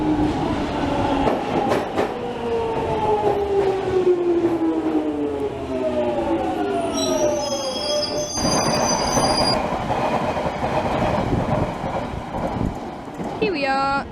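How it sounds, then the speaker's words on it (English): A London Underground Jubilee line train rolls through northbound with rising and falling whines, screeching wheels and a brief high squeal, loud and close, with a voice speaking over the rumble. "And here is our Jubilee line train."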